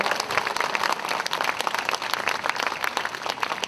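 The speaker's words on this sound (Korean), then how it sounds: "보은 국악 합주단 여러분과 두 분 소리꾼 분들께 다시 한번 따뜻한 박수 보내주시면 좋겠습니다" Warm applause from the audience at the opening ceremony of the 2023 Buddhist Culture Festival at Jogyesa's special outdoor stage, following a Boeun traditional Korean music ensemble and two sorikkun singers; dense, steady clapping fills the moment without a break.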